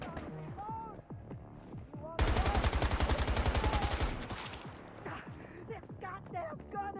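A single sustained burst of rapid automatic gunfire from a gun in the video game Once Human, loud and near, with quieter game sounds and distant noises before and after.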